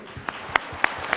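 A studio audience at a Chinese variety show claps in sparse, evenly spaced bursts, about four distinct claps over a low murmur of room noise.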